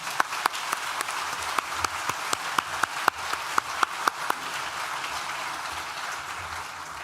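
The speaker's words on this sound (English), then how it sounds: "I thoroughly deserve a round of applause" At a university graduation ceremony for architecture, design and the built environment, faint, sparse claps ring out from a few audience members, irregular sharp hits over a quiet room that thin out toward the end.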